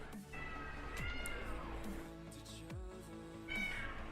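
A cat meows outdoors in several drawn-out, wavering cries, moderately loud, over a busy layer of tonal background sound and hum.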